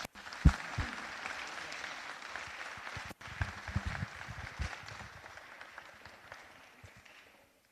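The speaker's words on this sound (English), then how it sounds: "Let's give this team a round of applause." Applause for a sports team at a city council meeting, a room of hands clapping steadily with a few louder knocks and thumps, gradually thinning and fading out toward the end.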